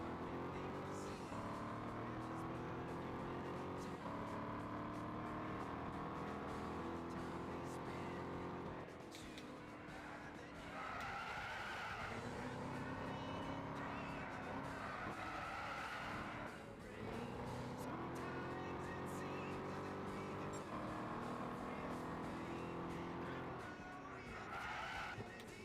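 A Chevy race car in Gran Turismo 6 roars continuously under heavy throttle, with loud tire squeal and skidding swelling and fading in repeated waves, alone without talk.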